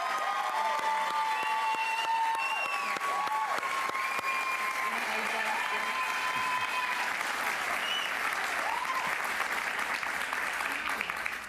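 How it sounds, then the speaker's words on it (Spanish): Audience applauding María Corina Machado at a talk-show taping, sustained steady clapping throughout with whistles or tonal sounds and a bit of crowd noise mixed in. "Un aplauso para ella, por favor"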